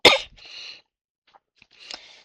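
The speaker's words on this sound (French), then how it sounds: "Désolée, je tousse encore." A woman's short coughing fit at home, one sharp burst followed by breathy, rasping follow-up sounds and quiet gaps.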